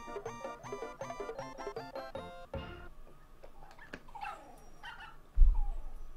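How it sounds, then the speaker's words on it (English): A dog gives a couple of short, faint yips and whimpers off to the side while bright, plinky video game music plays and chimes, followed by a low thump near the end. "Hi, random dog."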